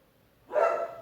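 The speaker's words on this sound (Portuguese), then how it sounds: "Ele resolve aparecer nos vídeos latindo com o cachorro do vizinho." A single dog bark sounds at mid-distance after a quiet start, one short sharp burst in a home setting while a neighbour's dog is also around.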